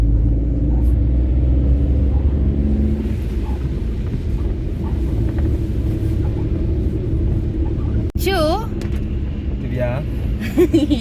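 Steady low engine rumble and road noise of a vehicle driving along a road toward an elephant ride photo point, continuous throughout with a brief dropout and a short high chirp near the end, with voices underneath.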